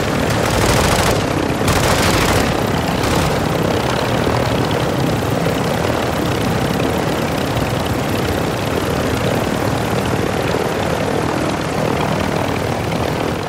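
Military helicopter flying in a video game mission: a loud, continuous rotor and engine roar fills the whole stretch, steady and close, with no talking.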